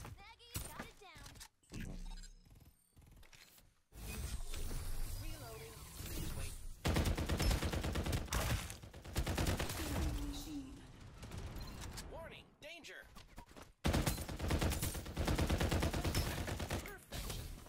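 Gunfire in the video game Farlight 84, dense bursts of rapid shots and mechanical clatter that come and go in loud stretches, mixed with game voices and effects.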